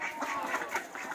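Several ducks quack repeatedly up close in a farmyard, a steady run of nasal calls with no talking over them.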